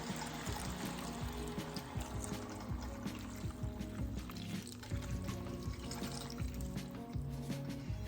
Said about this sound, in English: finish it off with 2 cups of water and I've dissolved 1 beef bouillon cube in it